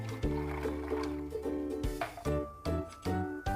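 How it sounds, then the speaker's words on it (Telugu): Milk is poured in a soft, steady liquid stream into a container holding ice cubes and sugar, partly masked by background music. "ఇప్పుడు మిల్క్ పోసేసుకుందాము"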